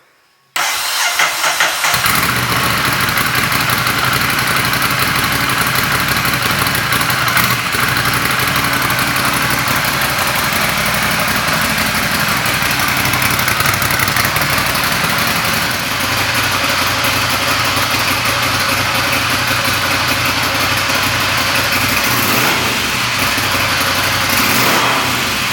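A Ducati Scrambler fitted with a Spark Classic exhaust, dB killers removed, cranks and fires up after a short moment of silence, then settles into a loud, steady, close-up idle that holds for the rest of the stretch with no talking.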